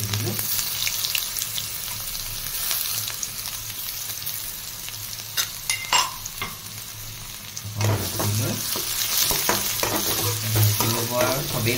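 Panch phoron and garlic frying in oil, a continuous close sizzle with stirring scrapes and a running tap splashing in the background.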